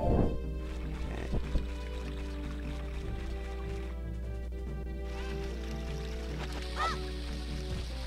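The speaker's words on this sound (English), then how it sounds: "Pick up a chicken." Cucco chickens cluck and honk in The Legend of Zelda: Ocarina of Time, a few squawks over a steady droning game music bed, with no talk.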